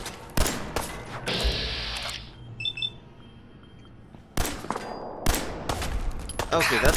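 Minigun fire and other gunshots in Fallout 4 come in loud, broken bursts with sharp thuds between them, alongside a few beeping tones and some game noise.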